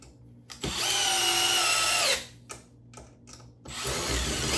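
Cordless drill/driver driving screws, a loud whine from one long run followed by several short bursts and pauses, each start ramping up, close by with no talk.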